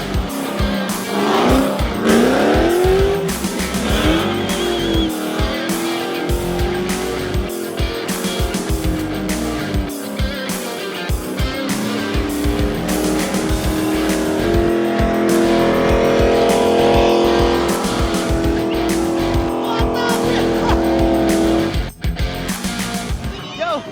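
Drift cars tear around on a parade lap, engines roaring loud and close with long, sustained tire squeals and skids that rise and fall continuously, and a voice briefly audible over the din.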